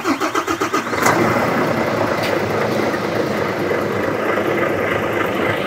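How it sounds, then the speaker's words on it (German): A truck engine cranks in quick rhythmic pulses, then catches and settles into a loud, steady rumbling idle, close by with no talking. "Ich muss jetzt aber den Motor anmachen, könnte laut werden."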